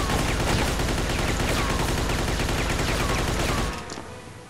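Dense, rapid gunfire from a .45 ACP pistol in the crime game Mafia 2, a loud continuous barrage of shots that cuts off abruptly near the end.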